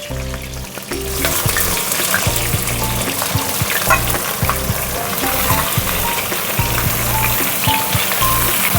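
Fresh winter vegetables for a spinach dish hitting a hot oiled pan, a sudden loud burst of sizzling that settles into steady vigorous frying with stirring clatter, close and without talk.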